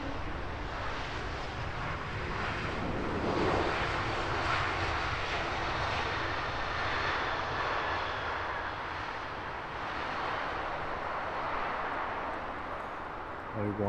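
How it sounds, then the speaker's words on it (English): An Air France Airbus A220 jet arriving at Heathrow roars steadily in a broad, sustained wash of engine noise, fairly distant and even throughout. "Air France A220 in from Paris Charles de Gaulle."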